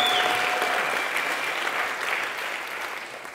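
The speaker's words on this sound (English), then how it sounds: "So give yourselves a round of applause for being crazy." A crowd at a Youth Day speech in Khayelitsha claps together, a loud wash of applause that gradually thins and softens toward the end, with no talking over it.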